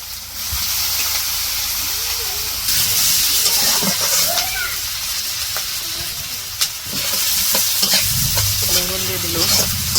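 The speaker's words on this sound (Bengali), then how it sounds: "পেঁয়াজ কাঁচামরিচ ভাজা হয়ে গেছে" Onions and green chillies frying in a pan as part of cooking a large river catla fish curry, a loud continuous sizzle broken by repeated stirring scrapes, with a voice speaking now and then over the cooking.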